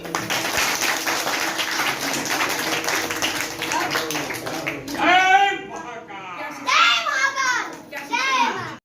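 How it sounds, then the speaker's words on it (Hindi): Children clap at a children's values class held at a Gayatri temple, a few short bursts of hand-clapping that start after a spell of steady background noise and stand out near and loud. "बजाओ ताली"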